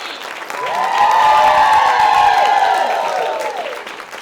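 An audience at a health talk claps and cheers, the applause swelling in, holding loud with whistles and shouts on top, then easing off toward the end.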